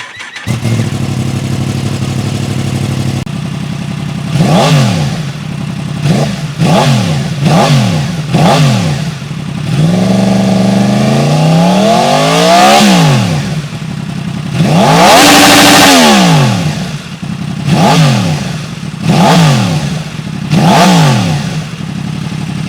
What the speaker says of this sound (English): Now we can get to the exhaust clip so you guys can hear what it sounds like